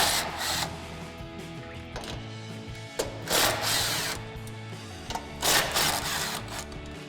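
Power tool driving off the strut top mount nuts on a 2005-2010 Ford Mustang, heard as several short whirring bursts over a steady background hum.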